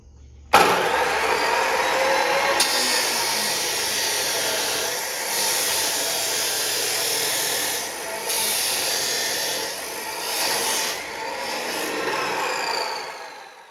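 Metal tube being cut to length with a power tool for a V8 go-kart frame, a steady loud abrasive whine and grinding sustained for over ten seconds with slight dips in intensity.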